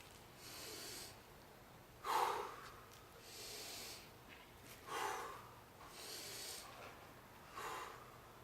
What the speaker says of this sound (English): Dial in your breathing. 3 in, 1 hold, 3 out.